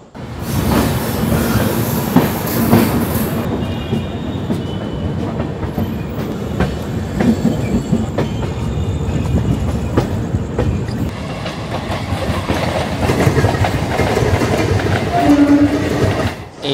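The 13145 Radhikapur Express runs on the rails from Howrah toward Bandel, heard from on board as a loud continuous rumble with rhythmic clickety-clack of the wheels, brief squeals and a faint distant horn, and no talk.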